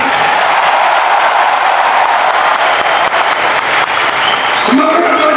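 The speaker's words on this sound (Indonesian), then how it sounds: "Tepuk tangannya, kurang semangat." A political rally crowd applauding, loud dense clapping that holds steady throughout, with voices of the crowd mixed in near the end.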